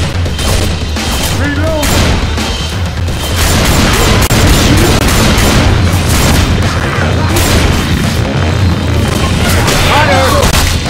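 Pipe bomb in the zombie shooter game Left 4 Dead 2, rapid bursts of booming gunfire and explosions layered throughout, loud and dense combat noise with scattered higher-pitched cues.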